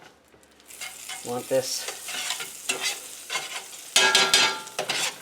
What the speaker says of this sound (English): I'm going to take a little bit of butter. Get that going in the frying pan there.